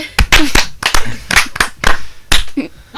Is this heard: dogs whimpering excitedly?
no